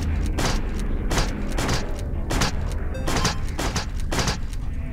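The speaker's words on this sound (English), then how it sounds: "Explosion, explosion, explosion, explosion." Repeated booming video game explosions in quick succession, loud and close, with crackling bursts layered over a continuous rumble.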